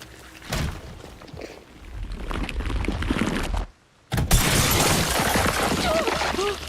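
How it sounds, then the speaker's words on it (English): Glass shattering in the survival horror game Resident Evil Requiem, a loud crashing break followed by dense scattering debris amid game sounds and music, with a brief silent gap before the crash. "Broke the glass."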